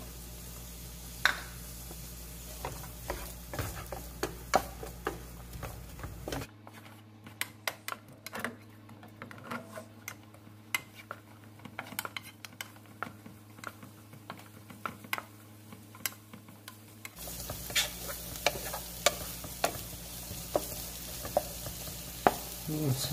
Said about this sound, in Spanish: Voy a sofreír.